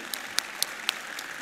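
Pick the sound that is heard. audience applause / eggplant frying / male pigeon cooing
audience applause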